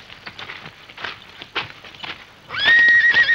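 A horse whinnies loudly near the end, a rising shrill neigh after a stretch of softer scuffing and shuffling sounds.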